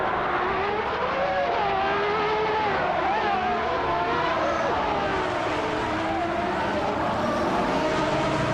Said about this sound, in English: Sir Ironbot has blasted off from the start to take the lead.